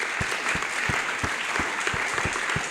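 An audience at a serenade celebration applauds steadily, dense clapping joined by a few distinct louder claps in a loose rhythm, filling the whole short stretch at an even level.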